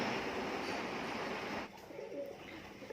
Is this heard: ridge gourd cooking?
no